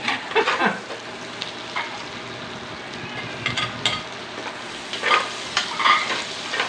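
Food sizzles and fries in a hot pan during a Filipino-style sauté, with repeated scraping stir strokes rising over a steady crackle, close and fairly loud, with no talking.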